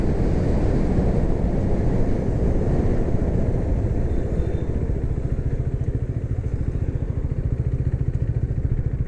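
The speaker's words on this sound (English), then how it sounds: "I love the way the bike sounds" A 2017 KTM Duke 390 single-cylinder motorcycle engine on the road: steady close rumbling drone with wind buffeting throughout, the pulsing firing rhythm becoming clearer toward the end, no voices.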